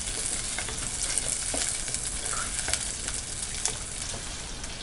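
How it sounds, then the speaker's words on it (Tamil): Shallots, green chilies and garlic sauté in hot oil in a pan for a spinach sambar, giving a steady close sizzle with light stirring scrapes and no voices. "சின்ன வெங்காயம், பச்சை மிளகாய், இது கூட பூண்டு. இது நல்லா சிம்மில் வச்சுட்டு நல்லா வதக்கிக்கலாம்."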